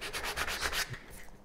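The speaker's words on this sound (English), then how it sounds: "Now I'm almost done with the 80 grit." A wooden paddle being sanded by hand with 80 grit sandpaper, giving quick rhythmic scratchy rubbing strokes, close and steady, fading slightly toward the end.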